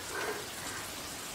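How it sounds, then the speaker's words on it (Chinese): Heavy rain from a sudden downpour, an even, dense patter and hiss that stays steady and fairly faint throughout the short stretch, with no voices. "你看今儿这大暴雨下得太突然了"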